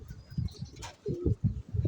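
Pigeons cooing near a loft in Cabanatuan, Nueva Ecija, giving several soft, low, throaty coos in a broken rhythm, close by and fairly faint, with a brief flutter in the middle.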